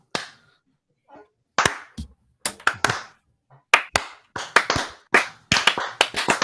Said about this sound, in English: I was swatting the imaginary fly